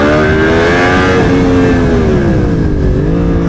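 A motorcycle engine during a braking test, loud and close, holding a steady drone whose pitch slowly falls as the bike slows, then dips and rises slightly near the end.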